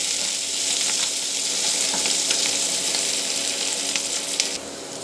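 Onion, chili and garlic sizzle hard in hot oil for fried rice, a loud, dense, unbroken fry close up with faint stirring scrapes throughout.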